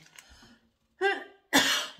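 Three short coughs, the first faint and rough, followed by two louder, harsher bursts after brief pauses.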